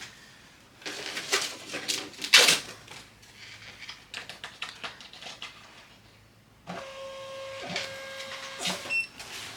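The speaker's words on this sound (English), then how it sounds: "And we are going to print a label." Rollo label printer printing a shipping label, a close mechanical whirring and rapid clicking feed with short bursts and pauses, then a longer run of motor hum and ticking, no talking.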